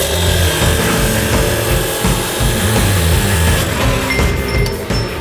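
A power saw cuts through thick steel close up, a loud, grinding, rasping drone with fluctuating pitch as the blade bites, easing slightly near the end.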